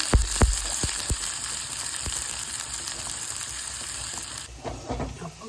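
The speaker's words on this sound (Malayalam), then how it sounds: "കടുക് പൊട്ടിക്കും നമുക്ക്." Mustard seeds crackling in hot oil during Onam cooking in Kerala: a burst of sharp pops at the start, then scattered snaps over a continuous steady sizzle and hiss, close by.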